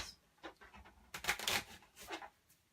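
Playing cards are shuffled in quick papery riffles and flutters, a few bursts close by, with no talking.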